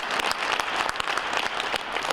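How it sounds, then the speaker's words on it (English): Applause for city councillors at an Edmonton City Hall event, a steady burst of crowd clapping with sharp individual claps standing out, heard alone for a couple of seconds. "Let's give them a round of applause."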